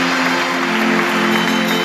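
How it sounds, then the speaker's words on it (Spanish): An audience at a campaign-closing rally gives a loud, dense burst of applause, steady clapping and crowd noise filling the short moment. "este fuerte aplauso para ustedes"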